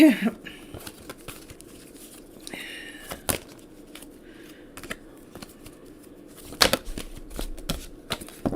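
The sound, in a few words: shuffling tarot cards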